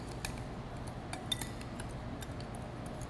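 Brussels sprouts being tossed with pepper and crushed red pepper in a bowl, giving faint scattered clinks and light taps of a utensil against the bowl over a quiet background.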